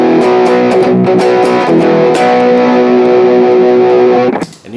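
Electric guitar pushed through an over-the-top distortion pedal plays a loud, saturated riff of chugging palm-muted hits and sustained chords, then cuts off abruptly at the end.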